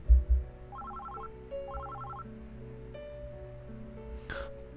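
A mobile phone ringtone or message alert chimes in two short bursts of repeated tones over a quiet musical backdrop in a game scene.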